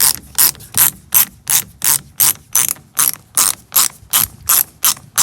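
A ratchet wrench loosens 5/8 bolts on a 1968 Ford F250 door, giving a close, loud run of about fourteen steady, evenly spaced bursts of sharp pawl clicking, with no talk.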